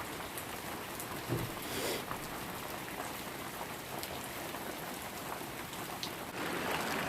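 Steady heavy rain pouring down in Douglas State Forest, Massachusetts, a dense continuous hiss of drops with no voices.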